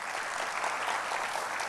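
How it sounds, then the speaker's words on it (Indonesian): A church congregation applauds during a sermon, with steady, continuous clapping from a room full of people that holds at an even level throughout. "Tepuk tangan sama Tuhan Yesus."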